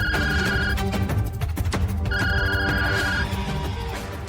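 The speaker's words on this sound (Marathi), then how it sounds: "सईचा फोन आहे." A phone rings with an incoming call, a loud melodic ringtone looping its tuneful pattern twice in a short indoor scene, with no talking over it.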